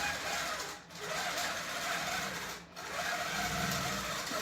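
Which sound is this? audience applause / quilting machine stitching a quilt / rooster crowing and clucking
quilting machine stitching a quilt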